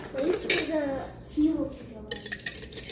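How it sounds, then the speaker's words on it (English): A utensil scrapes and clinks against a bowl while ground flaxseed is stirred into a mixture with a splash of fat-free lactose-free milk. The sounds come as short, close, irregular knocks and scrapes, with faint voices in the background. "And then I mix this up."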